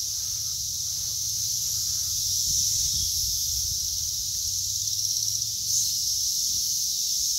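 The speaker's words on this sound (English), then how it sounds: "look at the cicadas." Cicadas buzzing in a summer garden among fruit trees, a steady high-pitched drone that carries on through the whole clip, loud and continuous, over faint low background rumble.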